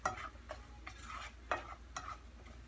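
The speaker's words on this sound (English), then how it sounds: "Stir it up." Seafood sauce seasoned with salt and pepper is stirred in a pan, a spoon scraping in soft regular strokes about every half second over a faint simmer, quiet and close with no voices.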